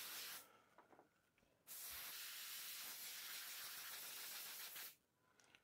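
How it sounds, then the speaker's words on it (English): An air blower blasts fine dust off cut timber pieces for a wooden castle build. It gives a loud, steady hiss for about three seconds, with shorter, softer puffs before and after. "So here I'll blow it off with the blower, get all the fine dust out of there"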